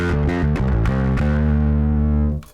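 Electric bass run through a Castellator Albatross distortion pedal, playing a dense, gritty riff of several sustained and shifting notes, loud and continuous before a quick cutoff, with no voices.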